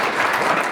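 Sustained audience applause at a 30th anniversary celebration of a cultural club in Italy, a dense, even wash of many hands clapping at steady loudness with no voices over it.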